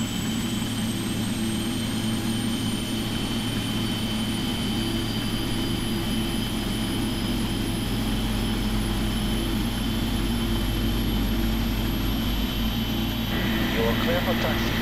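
A Boeing 777-300ER's left engine starting in the flight simulator FSX, a continuous jet whine with a slowly rising tone over steady low rumble, loud and unbroken throughout.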